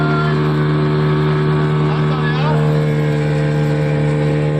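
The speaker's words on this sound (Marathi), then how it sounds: "बोटिंग करायला आम्ही जात आहोत." Motorboat ride on water, with a steady droning engine hum and constant wash of water close by, continuous throughout with no pauses.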